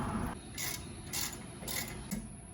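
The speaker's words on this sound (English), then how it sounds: "So now I'm gonna tighten them up with the ratchet." A ratchet tightens the brake caliper bolts on a 4G Mitsubishi Eclipse during a rear rotor and brake job. There are several rapid clicking bursts in a steady back-and-forth rhythm, close and clear, with no talking over them.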